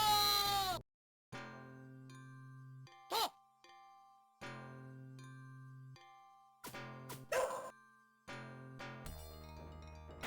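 In the Shadow Dancer arcade game, a ninja's dog companion gives short electronic barks amid beeping, tonal sound effects and chiming game tones, with bursts and pauses throughout.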